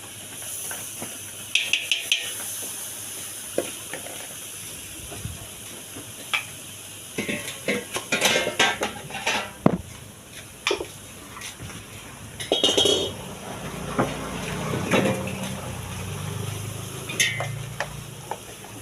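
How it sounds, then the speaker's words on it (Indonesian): Green beans sautéed with garlic and galangal in a home kitchen pan: a constant soft sizzle and hiss with intermittent clinks and scrapes of a utensil stirring against the metal, steady and close throughout. "Tuh, tinggal ditumis-tumis aja."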